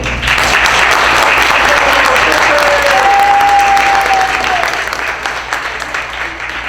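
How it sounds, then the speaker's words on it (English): Loud, steady applause from a school audience celebrating a student of the month, filling the whole stretch with dense clapping and a faint tone underneath. "So another round of applause."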